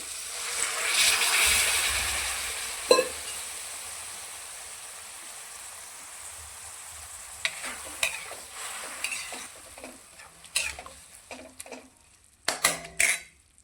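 A steady hiss of moth bean curry bubbling and sizzling in a pan, with scattered clinks and scrapes of a spoon against metal growing busier toward the end.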